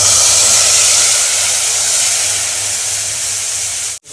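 Spiced buttermilk kadhi hits a hot tempering pot with asafoetida, setting off a loud, steady, broadband sizzle that hisses continuously close by, then cuts off abruptly at the end.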